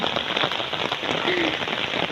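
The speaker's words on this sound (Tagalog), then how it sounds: "Karit lang jud og ulan." Rain falls steadily and loudly across an open field in the hills, a dense close patter with no voices over it.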